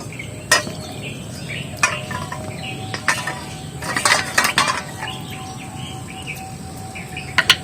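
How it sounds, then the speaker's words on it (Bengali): Small clay oil lamps (diyas) are washed in water, clinking and knocking against each other in scattered sharp taps, while birds chirp steadily in the background outdoors. "এবার এই প্রদীপগুলো একটু ভালো করে ধুয়ে নেব।"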